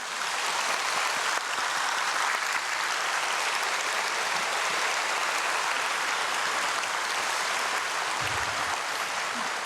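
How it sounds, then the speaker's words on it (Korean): Steady, dense applause from a church congregation at an early-morning prayer service, sustained evenly for several seconds like a continuous wash of hand claps without any voices. "격려의 박수 한번 다시 드리겠습니다"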